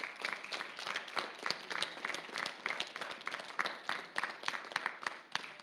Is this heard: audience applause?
yes